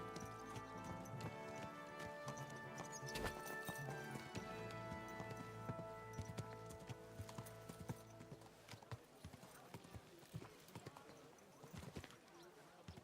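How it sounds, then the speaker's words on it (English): A horse's hooves clip-clop in the medieval game Kingdom Come: Deliverance II, a regular clopping rhythm under a bed of game music, with the hoofbeats becoming more distinct and scattered as the music thins toward the end. "This is my horse."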